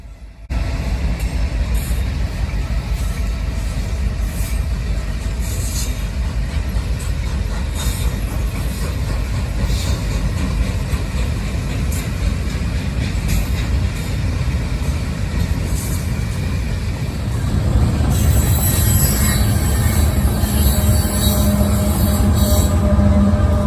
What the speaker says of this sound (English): Another specialized train you may see is a military train, which is chartered by the military to transport equipment around